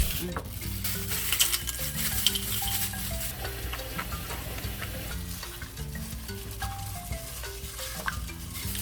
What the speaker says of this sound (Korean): 두 번째 튀기는 거는 오래 안튀겨어